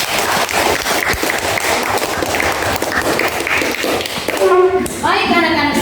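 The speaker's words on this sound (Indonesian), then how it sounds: "Kita berikan tepuk tangan diri kita masing-masing." Children clap together in a classroom, a steady crowd of applause running loud and continuous for several seconds before a few voices speak near the end.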